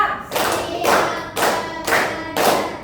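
A classroom group claps in unison during an ice-breaker, five loud synchronized bursts of clapping spaced about half a second apart, each a short thick smack of many hands, with no talking over them.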